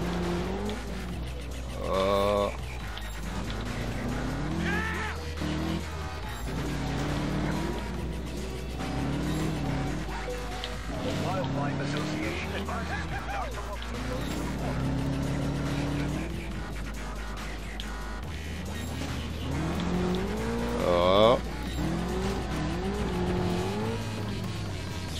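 Quad bike engine in the racing game Trials Fusion, a continuous droning motor with revving pitch sweeps and brief squeal-like bursts, steady and fairly loud throughout with music-like layers underneath.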